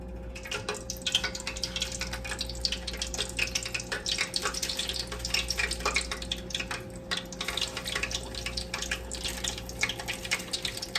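Peach and apple hand pies frying in hot oil in a skillet on medium-high heat, a steady close crackling sizzle with dense spattering pops running throughout.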